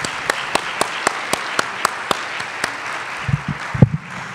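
An audience claps for a keynote speaker at the FLPEPPI 2023 conference, sparse, regular sharp claps spaced evenly apart, fairly close, ending with a few low voices or thumps near the end.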